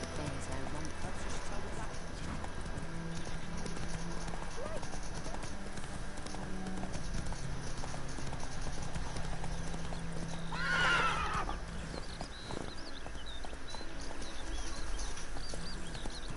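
Roach, Geralt's horse in The Witcher 3: Wild Hunt, gallops with steady clip-clop hoofbeats throughout, a whinny rising around the middle, over game ambience and music with some voice present.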